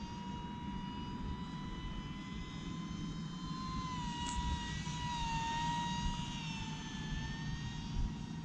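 A small jet-like whine of an E-Flite UMX MiG-15 RC model with a 28mm electric ducted fan flying steadily, a high sustained tone with a broad rushing hiss, continuous and moderately distant.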